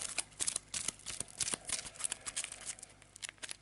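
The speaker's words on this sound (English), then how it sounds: "So I'll give this a quick shuffle" A deck of cards is shuffled quickly, a run of rapid riffling flutters and soft slaps close by.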